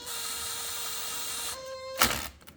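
On a 2003 LTZ/KFX 400 quad, a power tool tightens the front brake pad bolts with a steady high whine that drops in pitch, then ends in a short, sharp burst of noise.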